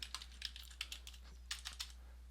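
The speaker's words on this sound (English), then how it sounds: "Let's narrow this down by typing in" Fingers type on a computer keyboard while searching a research database: a quick run of close, crisp key clicks in irregular bursts over a low steady hum.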